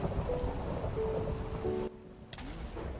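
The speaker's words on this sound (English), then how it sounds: "Oh no, it is raining." Rain falling in the Minecraft video game, a dense steady patter with a low rumbling wash, cutting out abruptly partway before resuming more faintly.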